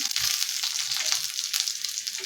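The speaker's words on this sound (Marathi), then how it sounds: "अगदी हलक्या हाताने भेंडी उलटून घ्यायची" Stuffed okra fries in oil and is flipped with tongs, a steady bright sizzle with small shifts and soft clicks as the pieces turn, close and fairly loud throughout.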